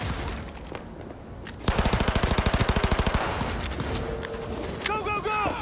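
An automatic weapon in Cyberpunk 2077 fires a rapid, evenly paced burst of about a dozen loud, close shots, followed by clattering game action and voices talking over it.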